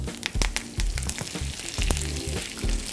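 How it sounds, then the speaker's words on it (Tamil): Round chillies and curry leaves crackle and sizzle in hot tempering oil, with stirring, in a short, close burst of frying. "இந்த குண்டு மிளகா சொல்லியிருந்தேன், அதையும் இதோடு சேர்த்து வதக்கணும்"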